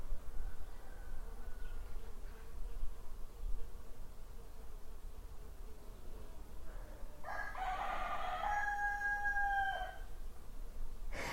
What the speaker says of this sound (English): There is a bee flying over the tree.